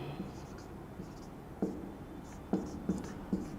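A heading being written on a classroom board, soft marker or chalk strokes with a few sharper taps as letters are finished, close and quiet under light room noise, with no talking.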